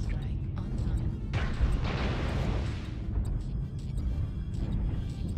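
An airstrike lands in a MechWarrior battle, a rolling series of booming explosions with a loud burst of crackling debris in the middle, under steady game rumble.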